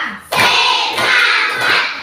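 Classmates in an Indonesian classroom clap in unison on a counted cue, producing a few loud, broad bursts of hands close to the listener with a crowd murmur between them.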